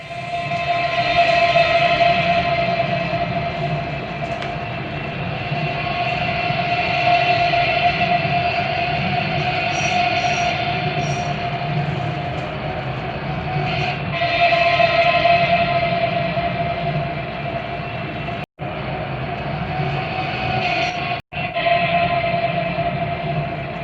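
Recorded train noise played back through speakers for a noise-cancelling headphone test: a continuous rumbling rail roar with a sustained horn-like tone, two brief dropouts near the end.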